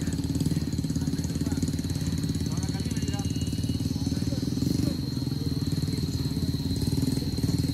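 A motorcycle engine labours steadily up a steep, challenging road between Pesisir Selatan and Solok, its continuous drone loud and close, with a voice occasionally speaking over it.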